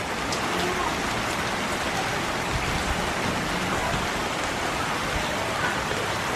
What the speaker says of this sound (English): I just hope it stops raining when it's time to leave